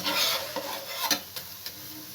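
A dahi paratha made with curd cooks slowly in a pan over a low flame, giving a steady soft sizzle with a few light scrapes and taps from a spatula, close up and without speech.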